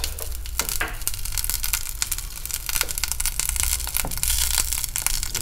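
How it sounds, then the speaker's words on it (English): Butter cooks down into ghee in a pan, with a wooden spoon scraping and stirring over a steady sizzle. Crackles and clicks come irregularly at close range, with no talking. "And then you just start stirring it."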